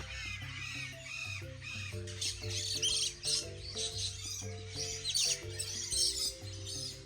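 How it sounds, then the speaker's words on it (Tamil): Birds in a bird park in Sri Lanka call over one another, with crow-like caws and chirps forming a steady, busy chorus of overlapping calls close by. "எல்லா பறவைகளும் தங்களுடைய அழகான அந்த சத்தத்தை வெளிப்படுத்துகின்ற போது உண்மையிலே கேட்கறதுக்கு"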